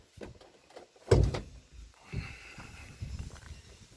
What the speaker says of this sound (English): So I'm just going to pop the bonnet